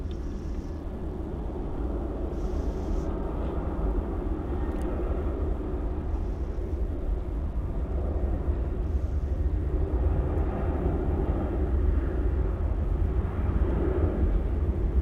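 Jet airliner departing Sydney Airport, a steady broad engine roar holding at a constant level for the whole stretch, with faint higher-pitched chirps at intervals.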